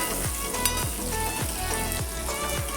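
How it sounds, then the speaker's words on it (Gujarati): Chopped onions sauté in a pan for parwal and onion curry, a loud, continuous sizzle with steady frying crackle throughout and no talking. "હવે આપણે એમાં ડુંગળી સમારેલી હતી એ એડ કરી દઈશું અને થોડી સાતળી લઈશું"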